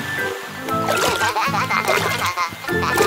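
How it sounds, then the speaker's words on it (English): Cartoon fountain splashing water in bubbly, gurgling bursts mixed with playful quacking-like tones, lively and close, repeating unevenly. "Splashes."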